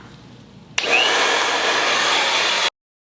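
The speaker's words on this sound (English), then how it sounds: "So I'm gonna put mine on high and hot." A hair dryer on high heat switches on abruptly and roars with a steady, loud broadband whoosh for about two seconds, then cuts off into silence.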